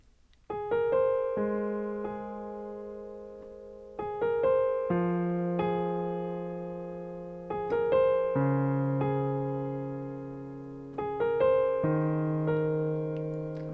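Piano chords struck one after another, each ringing out and fading before the next, forming a slow repeating progression: the intro accompaniment of a song.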